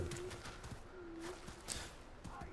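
A soft cooing bird call from the video game Far Cry Primal, heard in repeated low notes against dense ambient game noise.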